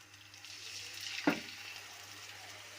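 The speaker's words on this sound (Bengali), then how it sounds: "এবার একটু পানি দিয়ে দিব।" Water is added to onion, ginger, garlic and green chilli frying in a hot pan for a chickpea dish, giving one sudden sharp sizzle burst that fades under a steady low frying hiss, close and alone.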